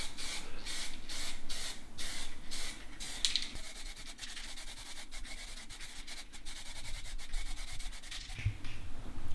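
An aerosol can sprays a second coat of tint onto Golf Mk3 rear lights in a series of short hissing bursts, then a longer continuous hiss, close by and fairly quiet.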